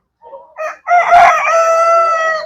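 A desi rooster on a poultry farm gives a single loud, close crow, rising from short clucking notes into a long drawn-out call.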